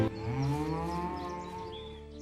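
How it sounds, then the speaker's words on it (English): A cow lets out one long, low, drawn-out moo that slowly fades, heard close and on its own. "That's a fine cow you have there."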